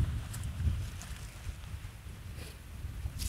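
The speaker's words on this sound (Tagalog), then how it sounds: "Ang lakas ng hangin mga ka-dreamers." Strong wind blows across an open farm field during a kadyos (pigeon pea) harvest, a continuous low rumbling buffet against the microphone with gusty swells and no talking.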